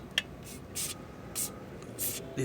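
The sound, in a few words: spraying WD-40 lubricant on bolts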